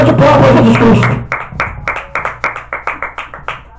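A church congregation bursts into applause, then settles into a steady rhythmic clapping in time, many hands together in a reverberant hall with a low hum underneath.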